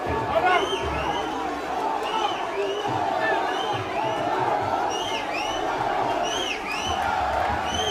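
Crowd in a football stadium erupting in cheers after a Kwara United goal in a CAF Confederation Cup match against RS Berkane, a dense roar of shouting and whoops with whistle-like cries sustained throughout.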